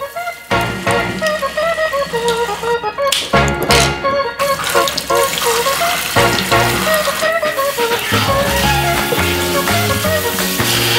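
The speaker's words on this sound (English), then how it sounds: "the next logical step is just to wash the seaweed thoroughly with warm water" Warm tap water splashes and runs over seaweed being washed in a sink, with loud irregular splattering, dripping and sloshing bursts and a few brief pauses in the flow.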